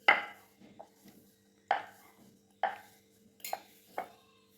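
A tin box being cut by hand to shape a somas cutter: about five sharp, crunching metallic snips, close and distinct, spaced roughly a second apart with quiet gaps and no talk.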